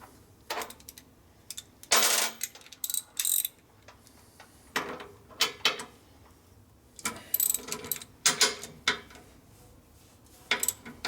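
Ratchet clicking in short bursts while parts are loosened on a 1942 Harley-Davidson WLC 45ci frame in a workshop, several separated runs of close, crisp clicks with quiet gaps between.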